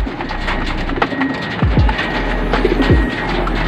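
Pigeons crowding together as they are fed at a racing loft, cooing and fluttering close by, with a few sharper calls rising over a steady background murmur.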